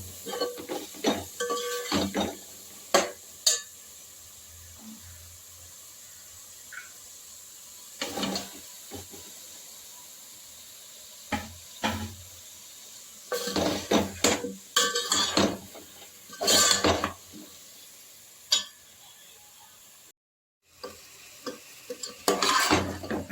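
Chopped bottle gourd tumbles into a pan of tomatoes for Hyderabadi dalcha, followed by intermittent bursts of spoon stirring, scraping and clattering against the metal, with a soft sizzle and quiet pauses between.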